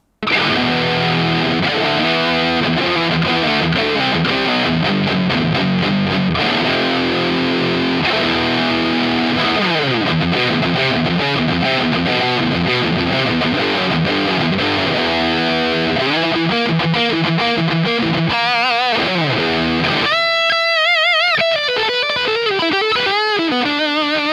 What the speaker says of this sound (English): this guitar is made for higher gain tones